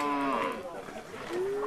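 Purebred trypanotolerant cattle of a native West African breed low twice at close range, each moo a drawn-out harmonic call with a short pause between.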